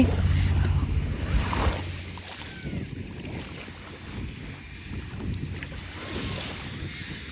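Seaside waves and gusting wind on the Isle of Wight, a continuous rushing surf and blustery microphone wind noise with a boat's low hum near the start and faint voices in the background.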